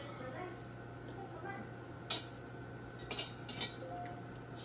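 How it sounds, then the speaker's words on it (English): Metal spoon stirring cinnamon into melted candle wax, faint clinks and scrapes against a pot, a few sharp taps spread over a quiet steady hum, with a voice speaking softly. "Stir it in."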